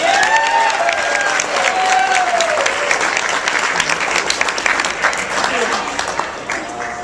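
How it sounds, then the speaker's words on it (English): Wedding reception guests give sustained, loud applause for the father of the bride before his toast, with scattered cheers and voices mixed into the dense clapping. "Let's give a round of applause for Edward Saltesiak."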